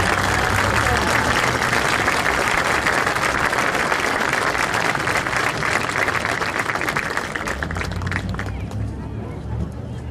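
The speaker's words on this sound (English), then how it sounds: "Let's give Miss Mary a round of applause." Applause from a crowd at a Bacon County versus Vidalia High school football game as Miss Mary is honored with flowers, a steady dense roar of clapping and crowd noise that runs throughout and eases slightly near the end.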